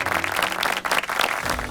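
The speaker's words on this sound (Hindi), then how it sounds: "जोरदार तालियों से इनका स्वागत कीजिए" Audience applause welcoming a brother-and-sister team at a family Bible quiz show, dense steady clapping filling the whole moment without talk.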